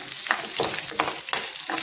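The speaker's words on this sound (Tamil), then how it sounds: "நல்லா இஞ்சி வந்து அந்த எண்ணெயில் நல்லா வதக்கிடணும்" Steady sizzling of ginger sautéing in hot oil, with stirring scrapes every half second or so, close and continuous.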